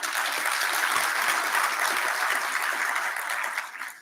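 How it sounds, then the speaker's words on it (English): An audience at a basic education sector gathering applauds educators, a dense, fairly loud burst of clapping that holds steady and then tapers off at the end. "I think we must give them a huge round of applause."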